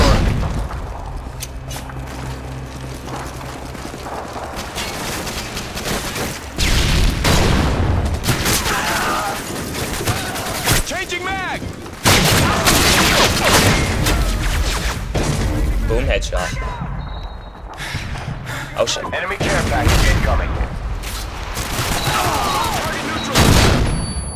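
Grenade blasts and rapid gunfire in the shooter game Modern Warfare 2, with repeated booms, bursts of shots and thuds throughout and players talking over the action.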